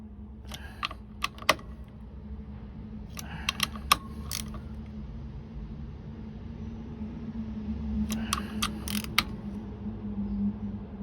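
Clutch cover bolts on a Monkey Z125 motorcycle being torqued down, heard as close, light metallic tool clicks in three short bursts separated by quieter pauses over a low background hum.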